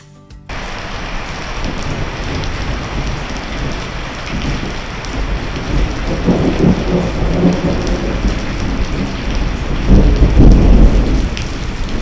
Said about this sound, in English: But it's finally starting to rain.